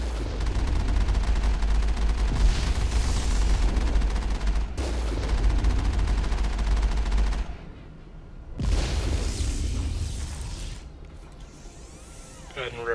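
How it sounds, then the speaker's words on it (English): Dense bursts of rapid gunfire from a Mass Effect firefight against Geth, with rockets flying. The shots roll on loud and steady for several seconds, drop out briefly, then resume in shorter volleys. "Can't see who else is shooting at me"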